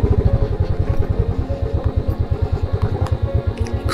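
A motorcycle labours along a muddy mountain road on the ride from Yamunotri to Gangotri, its engine thumping in a fast, steady, close chug with faint clattering on top and a brief rough burst at the end.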